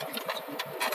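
A 2002 BMW 320d E46 diesel engine with a VGT turbo, given a light touch of throttle, produces a close, rapid, rough clattering pulse that holds steady through a short moment.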